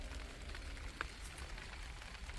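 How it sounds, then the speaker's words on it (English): Heavy rain pouring down on a home garden, a dense, steady hiss of drops on surfaces that runs throughout, with one brief sharper drip or tap near the middle. "I'm waiting for the rain to stop."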